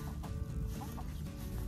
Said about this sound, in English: That's our little rooster.